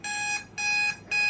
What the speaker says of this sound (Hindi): टाइमर भी ओवर हो गया